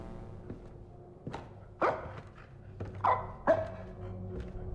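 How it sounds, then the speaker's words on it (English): A dog in a horror video game gives a few short, muffled barks spaced irregularly over several seconds, fairly faint and distant against a low ambient drone. "where the fuck is the dog? The fuck you barking about?"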